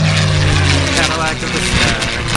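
A propeller aircraft flies over a WWII re-enactment, its loud, steady engine drone with harmonic hum filling the scene, with talking over it.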